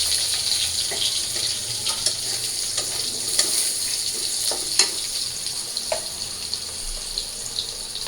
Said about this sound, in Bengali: এখন আলুগুলো দিয়ে আলুগুলো একটু ভাজা নেব।